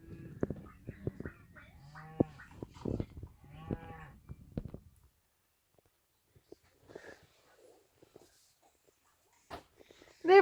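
Herd of cows with calves mooing outdoors, several long lowing calls close by in the first half, then quieter scattered sounds and a brief loud burst at the end.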